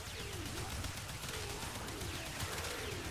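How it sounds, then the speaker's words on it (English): Incarnon Soma Prime rifle firing in the video game Warframe, a steady stream of fast automatic shots with whistling effects, faint and continuous under the game's ambient sound. "and now we just shoot."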